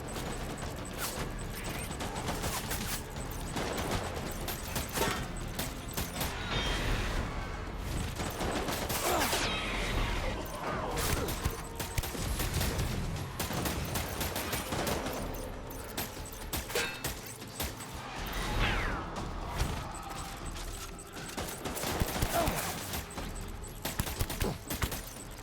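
Rifle fire in Death Stranding: repeated sharp cracks and bursts over a steady mechanical din, with clicks and rattles between the shots throughout.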